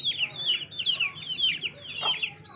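Hens cluck in a quick, repeated run of bright calls close by on a home farm, with a faint low rumble underneath.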